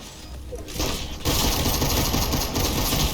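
Pump shotgun and pistol shots in Fortnite ring out in a dense, loud volley, a sharp blast followed by continuous rapid gunfire close up, with no talk over it.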